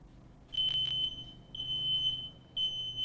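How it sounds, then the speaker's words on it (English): A photoelectric smoke detector sounds its alarm, a piercing high-pitched electronic tone in three loud bursts of about half a second to a second each, separated by short gaps, with no talking. "That's the photoelectric detector again."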